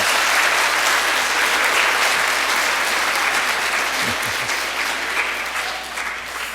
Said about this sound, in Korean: 용감하게 씩씩하게 잘 불러준 우리 성가대 위해서 크게 박수해 주시기 바랍니다